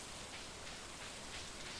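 Steady rain falls in Stardew Valley during a stormy spring day, a soft continuous hiss of drops with no voices and no breaks over the short stretch.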